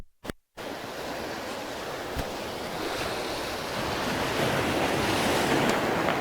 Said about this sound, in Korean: 야 여기 파도 치는데